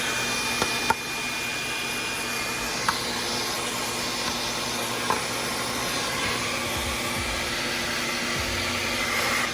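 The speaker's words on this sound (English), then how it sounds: "I'm just gonna go around and just vacuum while I dust at the same time" Steady, loud whooshing hum of a vacuum cleaner running continuously inside an SUV, cleaning pet hair from the interior, with a few faint clicks and bumps along the way and no talking.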